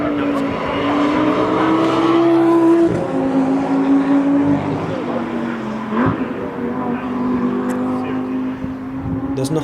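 Race cars roar past on the forested Nurburgring track, a loud close engine drone rising and falling as they rip by, with a sharp gear change and overlapping vehicles.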